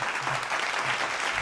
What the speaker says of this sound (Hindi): जोरदार तालियों में इस्तकबाल कर लें जनाब सुनील शर्मा।